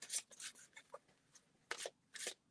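Oracle cards being shuffled by hand, a run of soft papery riffles and rubs in short separate bursts with quiet pauses between them, close and faint, no talking.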